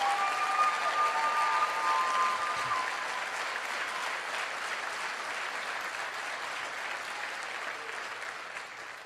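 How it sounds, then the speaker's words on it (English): An auditorium audience at a motivational speaking event applauds steadily, dense clapping that gradually fades over about nine seconds with a few faint cheers early on. "Give yourselves a round of applause."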